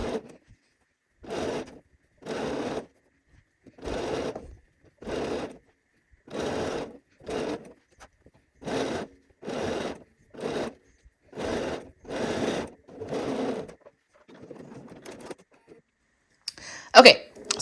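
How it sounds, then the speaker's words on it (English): A sewing machine stitches a dress sleeve seam in repeated short bursts, about a dozen evenly spaced runs with brief pauses between them, close and steady, ending with a sharp clatter. "So now I'm just going to sew"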